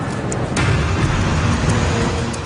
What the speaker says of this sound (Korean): 트럭이 붐비는 거리를 뚫고 달립니다.